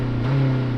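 A 2023 Honda CR-V engine idling, heard from outside the vehicle, a steady low hum with a smooth drone that holds level for under a second.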